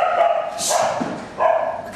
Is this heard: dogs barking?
yes